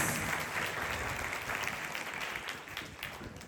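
A church congregation claps together in a steady wash of applause that gradually fades, with a faint voice in the background.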